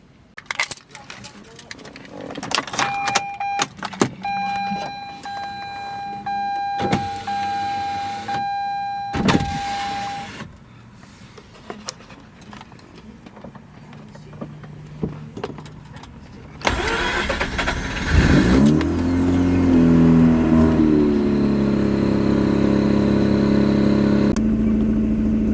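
A Mazda RX8 rotary engine, just refuelled, clicks and cranks, then starts and settles into a steady loud idle with a rev while warming up, after handling noises and brief talk early on.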